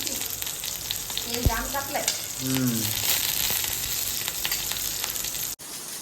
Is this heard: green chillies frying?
yes